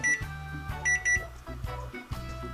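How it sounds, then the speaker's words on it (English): A microwave oven timer, set while pressure-cooking butternut squash and daikon radish, rings as an alarm: several loud, close bursts of bright tonal beeping repeated in a steady pattern over a few seconds, with no talking. "So the timer is rung."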